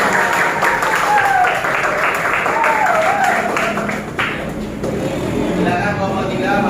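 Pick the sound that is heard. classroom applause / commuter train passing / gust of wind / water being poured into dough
classroom applause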